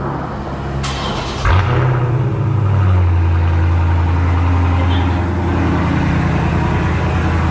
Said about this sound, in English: Go ahead, crank the car up real quick.